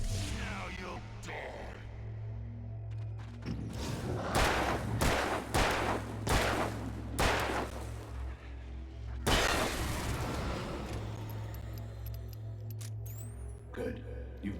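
Gunshots ring out in the video game Alan Wake, a run of sharp, loud reports in quick bursts over a droning game soundtrack, then a final heavy blast followed by a ringing tail.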